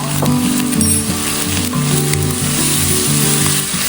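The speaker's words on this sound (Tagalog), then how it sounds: "Hinigisa ko rin yung paminta kasama ng bawang, sibuyas, kamatis." Black pepper sautéing with garlic, onion and tomato for sweet corn and shrimp in coconut milk, a steady loud sizzle filling the whole stretch with faint clinks of stirring.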